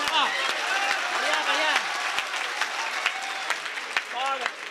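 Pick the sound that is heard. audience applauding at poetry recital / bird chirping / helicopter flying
audience applauding at poetry recital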